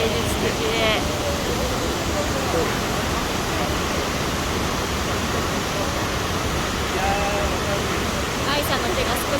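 Waterfall near Nikko with Mount Nantai above, a loud, constant broadband roar of falling water close by, steady throughout with no breaks, and faint traces of distant voices beneath it.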